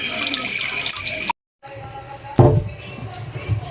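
Root crops are rinsed under a running tap, water splashing and hissing steadily into a sink. The flow cuts out briefly, then returns with a louder splash.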